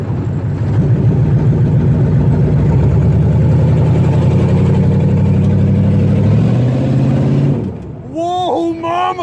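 1987 Monte Carlo with a swapped 6.2L diesel engine getting sideways, its engine roaring loud and close as the pitch climbs and wavers, then dropping off at the end as excited voices shout.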